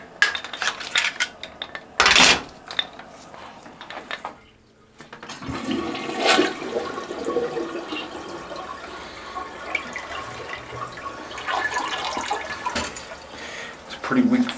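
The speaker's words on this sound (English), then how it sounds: "It's a pretty weak flush." A weak, slow toilet flush: a sudden loud rush of water that settles into a long, steady gurgling swirl and drain, with faint background voices.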